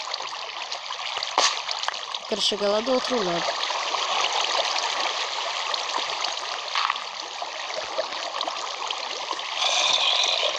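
Water flows steadily in a mining video game, a constant rushing stream with a few clicks and blips, while someone speaks Portuguese briefly over it.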